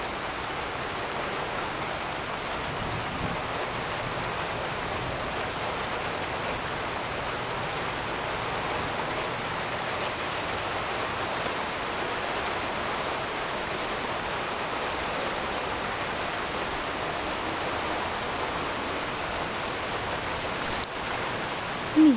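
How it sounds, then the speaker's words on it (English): A heavy rain downpour from a severe isolated thunderstorm pours down in a dense, steady hiss of drops hitting the ground, loud and unbroken throughout, with no talking. "this is what I call a downpour"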